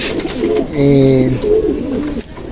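Racing pigeons coo close by in soft, rolling throaty phrases, a couple of repeated calls filling the short moment.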